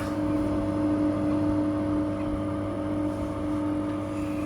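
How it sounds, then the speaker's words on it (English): An air conditioner vent fan runs steadily in a newly finished house, a constant hum with tonal whine and a broadband whir that holds level throughout. "our vent is on. It's working, you can probably hear it"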